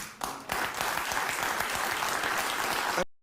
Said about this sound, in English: see how there's not much clapping?